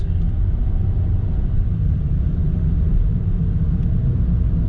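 Car with a transmission that had run out of oil, driven under steady throttle through its gears, giving a loud continuous low engine and drivetrain rumble with no distinct breaks between shifts.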